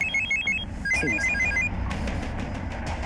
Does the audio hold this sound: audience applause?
no